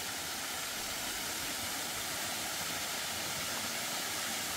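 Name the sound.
waterfall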